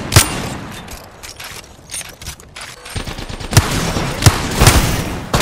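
Gunfire in the Apex Legends video game: sharp single shots and short bursts crack out close and loud at irregular intervals, with a clatter of smaller shots between them.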